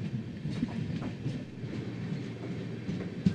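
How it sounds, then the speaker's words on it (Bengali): The Sealdah–Jalpaiguri Road Humsafar Express rolls along heard from inside, with a low steady rumble and rhythmic clickety-clack of wheels over rail joints, plus one sharp knock near the end. "ট্রেন ছেড়ে দিয়েছে"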